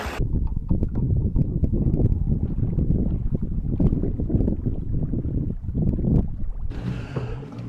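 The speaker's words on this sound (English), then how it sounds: "pedaling across the lake to my secondary spot" Low, rumbling water and wind noise with soft knocks and splashes as a pedal kayak moves steadily across Horsetooth Reservoir on a windy day, close to the microphone.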